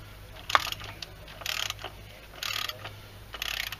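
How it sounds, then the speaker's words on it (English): Ratcheting socket wrench with a small extension turning a cap wrench to loosen the oil filter cap on a Mercedes GL450 (X164), four short bursts of rapid clicking about a second apart, close and clear, no talking. "I'm going to crank that up till it's loose"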